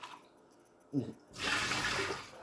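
Water is poured into a jerky marinade, a steady rushing splash after a brief knock, close and fairly loud.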